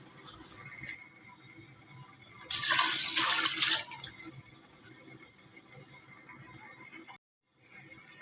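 Water is poured into a pot of chicken for nihari, a bright splashing gush lasting about a second and a half, then fading to quiet kitchen background with a brief moment of silence.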